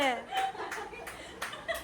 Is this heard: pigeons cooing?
no